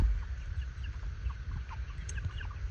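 Eight-week-old Cornish Cross meat chickens clucking softly in a group, scattered short calls over low background rumble, fairly faint and without talk.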